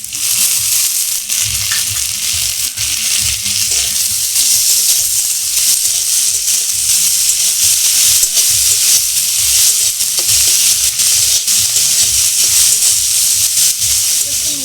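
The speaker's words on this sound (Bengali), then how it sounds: "পেঁয়াজটা ভাজা হয়ে গেছে এখানে একটা বড় সাইজের টমেটো নিয়েছি এটা দিয়ে দিচ্ছি" A large tomato goes into fried onions in a pan while cooking dal palak, producing a loud, steady hissing sizzle with occasional stirring scrapes throughout.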